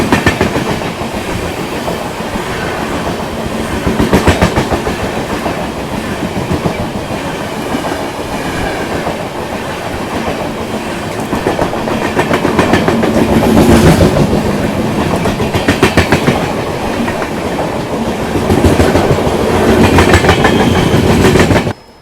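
Passing Duronto Express train on rails in the monsoon, a loud continuous roar with rhythmic clickety-clack of wheels over rail joints, surging in waves as carriages rush by close at hand, no voices.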